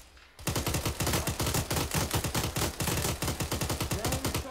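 Sustained automatic rifle fire in ArmA 3, a long steady string of loud close shots in a fast even rhythm after a brief quiet start.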